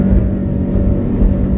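Outboard engine on a 2020 Blue 22 Ocean Pro boat running loud and near, a deep steady roar holding high rpm for the whole stretch.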